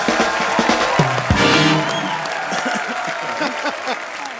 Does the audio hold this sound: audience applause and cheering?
yes